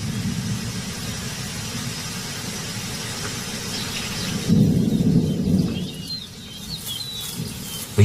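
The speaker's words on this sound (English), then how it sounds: "The rain falls harder than usual." Heavy rain lashes the African savanna during a storm, a steady roaring wash with a low thunder rumble swelling midway and then easing, loud and continuous with no voices.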